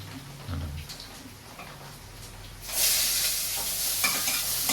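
Carrot, tomato and mustard seeds sautéing in coconut oil, quiet at first with a few soft taps, then breaking into a loud, bright sizzle that holds steady with scattered crackles as the pan is stirred.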